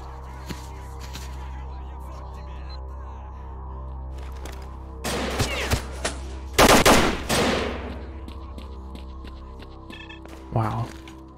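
A few sharp bursts of automatic gunfire tear through a quiet night scene in S.T.A.L.K.E.R. Lost Alpha near the Agroprom Institute, loud rapid volleys clustered in the middle, with a final shot near the end.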